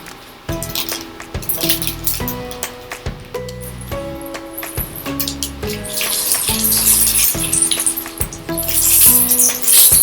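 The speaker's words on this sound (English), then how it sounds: "now that it's boiling rapidly, the water is bubbling violently, I'm going to put our macaroni into the pot" Pot of water at a rapid boil with macaroni poured in, a loud rushing bubble and splash alongside clinking and rattling pasta against the pot, growing busier toward the end.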